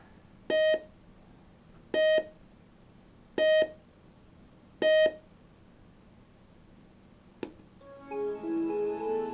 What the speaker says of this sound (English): we hear this rhythmic beeping for about 20 seconds while everything boots up